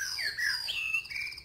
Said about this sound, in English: those birds are incredibly... incredibly loud